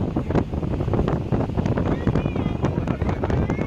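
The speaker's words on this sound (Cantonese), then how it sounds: "太大風啦" Strong gusting wind buffets the microphone in a steady low roar, with faint water and distant voices underneath.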